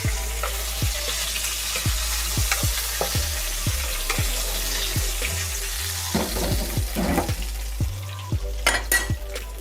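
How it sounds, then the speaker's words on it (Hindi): Fish sizzling in a pan of masala as it is stirred, a steady frying hiss broken by repeated scraping strokes of a spoon against the pan, close and continuous without talk. "अब ये फ़िश को मैं मसाले में डाल दूँगी ताकि इस पे मसाला अच्छी तरीके से लग जाए।"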